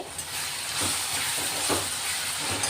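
Ginger-garlic paste hits fried onions in a hot pan for a mung bean curry, giving a dense, steady sizzle and hiss that stays loud and even from start to finish.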